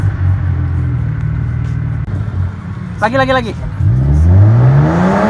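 A BMW 320 or 323i with a stuck throttle revs hard in a garage after a rain wash, engine droning loud then climbing in pitch, while people talk briefly over it.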